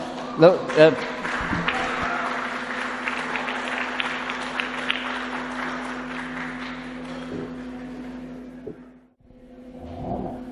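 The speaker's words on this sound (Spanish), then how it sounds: "Hermano Aurelio, un cariñoso aplauso para nuestro hermano." Applause from a crowd fills the room for several seconds, dense and steady, then fades out before a voice begins speaking.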